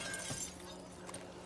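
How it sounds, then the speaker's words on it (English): Glass object shattering in the video game 7 Days to Die, a brief bright crash over a steady, busy game soundscape. "Something fucking broke. It sounded like it was made of glass,"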